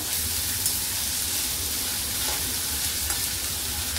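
Onions frying in a pan for methi bhaji, a continuous soft sizzle with faint stirring touches, close but fairly quiet and steady throughout.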